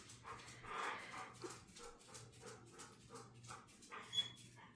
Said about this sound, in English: That is my dog in the background if you hear whining.